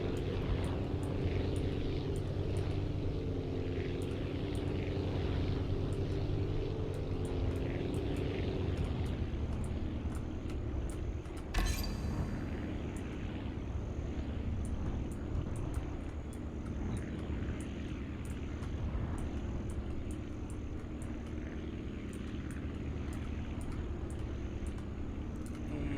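Propeller plane in the Aviassembly flight game, engine droning steadily as it circles and comes in to land, with a sharp touchdown clatter partway through.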